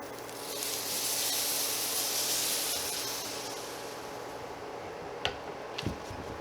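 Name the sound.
whole milk poured into hot flour roux, hissing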